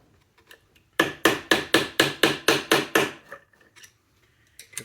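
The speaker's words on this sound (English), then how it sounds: "grab a hammer and a screwdriver, and we're going to see if we can give this a bit of a knock" Nine sharp metallic taps strike in a steady rhythm at close range, a hammer knocking on a screwdriver against a nut on a JAWA 350 motorcycle during clutch work, with quiet pauses before and after.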